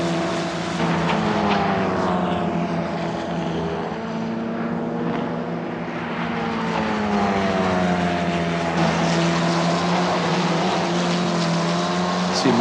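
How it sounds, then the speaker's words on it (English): Formula Regional European Championship single-seaters sweep past during qualifying at Mugello, a continuous loud engine roar with rising and falling whines as cars approach and pass, layered over steady track-side din. "See more cars come through."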